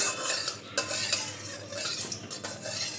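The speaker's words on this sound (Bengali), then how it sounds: "তেলটা একটু নেড়েচেড়ে কড়াইয়ের গায়ে খুব ভালোভাবে লাগিয়ে নেব।" A spoon stirs and scrapes one spoonful of mustard oil around a wok, giving irregular metallic clinks and scrapes over a faint background, with no talking.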